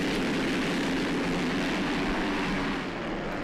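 MX2 motocross bikes roar off the start together at an Elite Motocross round in St Jean d'Angély, a dense, steady wall of engine noise with no break across the few seconds.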